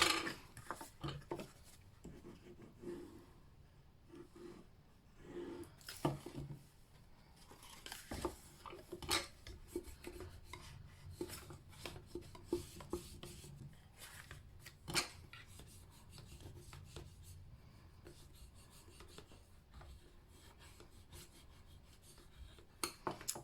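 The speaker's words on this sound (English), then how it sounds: "just take some time just to burnish all those edges down, make sure that they stick really nicely." Paper box edges being burnished down while making a double walled gift box, soft repeated rubbing and scraping strokes in uneven bursts, quiet and close with no speech.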